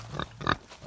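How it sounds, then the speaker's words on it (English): Hampshire and Yorkshire mix pigs on a farm grunt in three short, close bursts, the middle one loudest, with brief quiet gaps between them. "Are there different kinds of pigs in here?"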